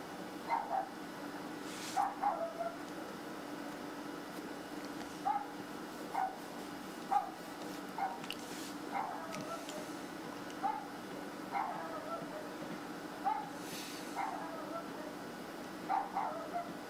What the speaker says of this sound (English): I think that's a person they recorded making barking sounds.